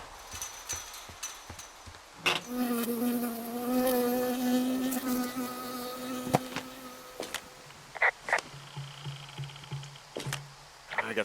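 A bee buzzes in the Firewatch video game, its steady harmonic drone holding close for several seconds before trailing off, with footsteps and other game sounds around it.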